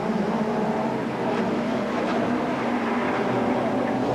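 BMW touring car racing past at a 1990 British Touring Car Championship round, a loud, continuous engine roar with steady road noise, close and alone.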